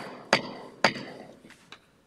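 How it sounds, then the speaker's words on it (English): A wooden gavel strikes twice in quick succession to open a village bike and run plan advisory committee meeting, sharp close knocks followed by two fainter taps trailing off. "The hammer."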